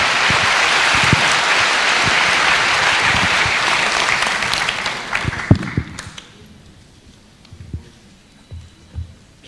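An audience at a public lecture on democracy and youth political participation claps loudly and continuously, then the applause fades away into a few scattered claps and faint room noise.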